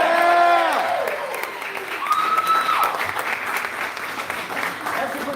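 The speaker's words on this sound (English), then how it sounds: "let's give a big round of applause for an amazing brewer" An audience at a town hall event in Littleton, NH gives a round of applause for a brewer, a sustained wash of clapping with some cheering that begins right after a voice fades and continues at a steady level.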